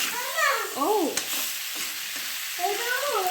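Meat frying in a pan with turmeric and salt is stirred, making a strong, close sizzle broken by a few scraping stir strokes, steady throughout.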